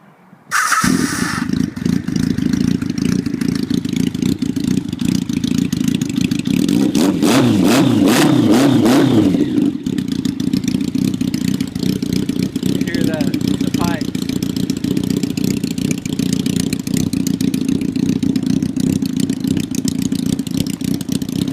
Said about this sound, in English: Here, let me start it up for you.